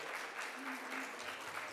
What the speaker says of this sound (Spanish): estos aplausos para que le transmitan a Frank eh, merecen un descuento para la próxima vez